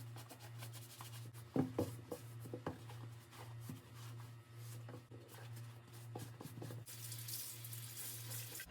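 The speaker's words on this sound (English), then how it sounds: "I am rinsing the sponge in between to keep the water cleaner." Tap water runs while a sponge is rinsed during cleaning of Red Wing Heritage leather boots, a steady faint flow with low hum beneath, scattered squeezes and rubs, and a brighter rush of water near the end.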